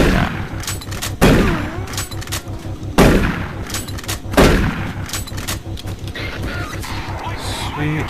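Shotgun blasts in the shooter game Doom 3: three loud, sharp booms a couple of seconds apart, each with a short rumbling tail, over steady game music and ambience.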